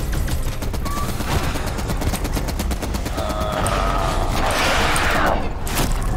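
Call of Duty Cold War Zombies gunfire on Firebase Z: rapid automatic shots pound on without a break, loud and dense, with mechanical clanks and game effects layered on top.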